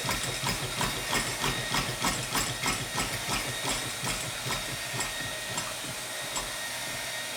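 A homemade steam engine fed by a DIY steam generator runs while warming up, giving a steady, rapid chuffing beat over a constant hiss of steam. It is close and even, and the pulses soften slightly toward the end.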